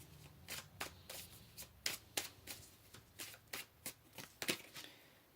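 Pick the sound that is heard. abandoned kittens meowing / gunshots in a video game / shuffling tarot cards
shuffling tarot cards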